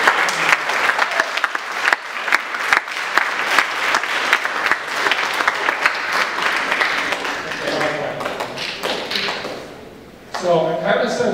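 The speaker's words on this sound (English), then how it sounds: "And I want you guys to clap for that, because these guys are awesome." Sustained, dense applause from a school assembly audience, a steady crackle of many hands clapping for about eleven seconds, with voices emerging near the end as it thins.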